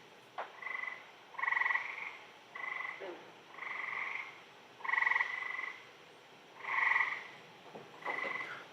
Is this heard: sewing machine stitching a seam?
no